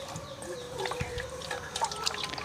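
Drumsticks and jackfruit seeds are washed in water in a village kitchen, giving soft sloshing and dripping with scattered light knocks over a quiet background, and no voices.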